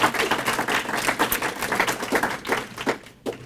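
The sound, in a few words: audience applause for department chair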